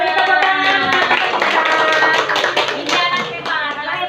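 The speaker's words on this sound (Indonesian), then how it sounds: "Ya, tepuk tangan." A classroom of students claps their hands in a dense, steady patter of close slaps, with voices calling out over the clapping throughout.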